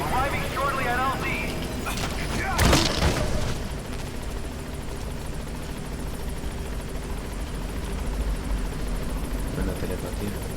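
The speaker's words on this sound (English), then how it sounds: "Ok, voy a llamar al helicóptero." Helicopter arriving at a landing zone in Metal Gear Solid V, a loud continuous rotor drone with a booming swell early on, mixed with game sounds and people talking.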